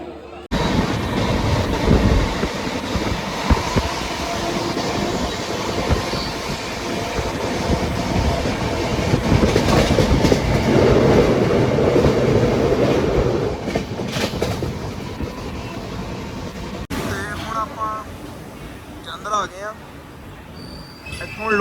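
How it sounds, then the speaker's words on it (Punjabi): A train runs on rails, its continuous rumble and rattle of railroad cars rising and falling, loud and near, with faint clickety-clack later. Voices are heard faintly under the noise. "ਹੁਣ ਟ੍ਰੇਨ ਕੋਲ ਪੁੱਜ ਗਏ ਆ 4 ਮਿੰਟ ਪਹਿਲੇ ਤੇ ਹੁਣ ਤਸੱਲੀ ਨਾਲ ਚੜਦੇ ਆ"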